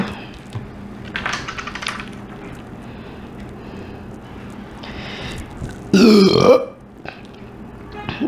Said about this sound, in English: Now it's just about the burping, guys.